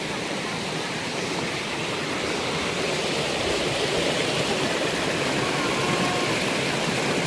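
A mountain stream flowing near a hillside home makes a dense, steady rushing hiss of water, loud and close and continuous throughout.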